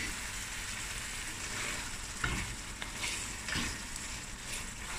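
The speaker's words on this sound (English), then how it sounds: "Let's give this a stir." Meat for a black-eyed bean curry fries in a pot with an even, close hiss, broken by a few soft scrapes as it is stirred; no speech.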